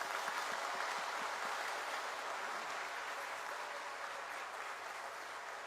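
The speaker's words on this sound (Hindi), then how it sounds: "आप लोग एक बार सबके सम्मान में इनका जोरदार तालियों से स्वागत करें।" Steady, dense applause from a large audience welcoming national guests at a tribal conference in Nagpur, heard from a distance, continuous and fairly even throughout with no voices over it.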